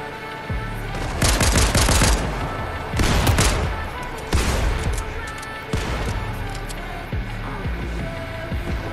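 Rapid gunfire from Fortnite gameplay, several loud bursts of automatic shots spaced a second or two apart over a steady rumble of engine and game noise, with voices talking over it.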